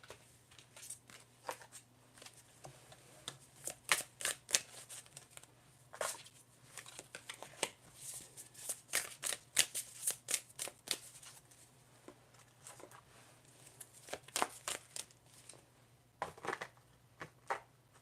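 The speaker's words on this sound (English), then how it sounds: "Just going to reset and then shuffle for the next reading." Tarot cards being shuffled, a faint, close run of rapid riffling clicks and soft slaps in uneven bursts over a low steady hum.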